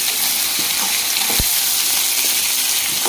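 Eggplant pieces frying in oil with turmeric give a steady, close sizzle, broken by a few scraping stirs of a spoon against the pan, with no talking.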